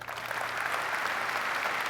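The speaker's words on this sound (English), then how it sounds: "So let's give all the family members another round of applause" Audience gives family members a round of applause, a continuous dense patter of many hands clapping together, moderately loud and evenly sustained.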